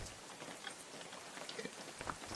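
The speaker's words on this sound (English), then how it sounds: "Aw, it's raining. Damn it." Rain in the survival video game Unturned, patters in a dense, steady hiss with scattered drop taps, moderately close and alone.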